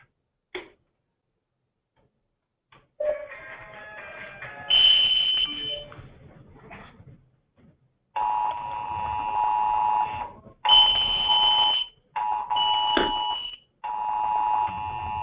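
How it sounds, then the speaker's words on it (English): Blue lockdown panic button set off: an emergency alarm sounds in repeated bursts of electronic tones and beeping chimes with short gaps between them, loud and close, after a brief click. "So here's a quick activation of the blue lockdown panic button."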